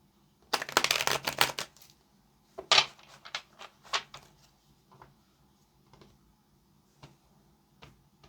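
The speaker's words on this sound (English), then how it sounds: "this will be our last shuffle" Tarot cards are shuffled in a brisk riffling burst, followed by a series of soft, scattered taps and card handling sounds in a quiet room.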